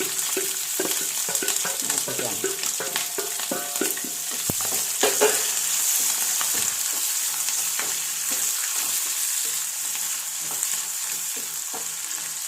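Ginger, garlic and green chilli stir-fry in hot oil for a gooseberry pickle, giving a continuous crackling sizzle with frequent close scrapes and clicks of a spoon against the pan, and no voices.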